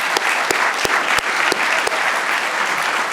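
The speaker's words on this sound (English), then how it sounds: "Please join me in a round of applause for our panelists" A conference audience gives a round of applause for panelists after a national security discussion on energy supplies, with continuous steady clapping and a few sharp, close claps standing out.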